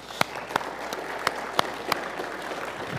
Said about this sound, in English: can you give them a round of applause while they come